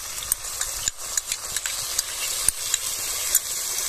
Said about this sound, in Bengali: মিশিয়ে নেব মশলা আলুর মধ্যে এইভাবে করে।